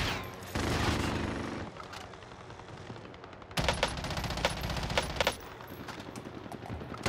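Automatic gunfire in the Warzone video game on Rebirth Island, loud rattling bursts and a fusillade of rapid shots in two main stretches with a short lull between.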